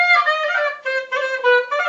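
Solo jazz clarinet played in a style outside the New Orleans tradition, with sustained bright melodic phrases separated by short breath pauses, close and clear with no talking.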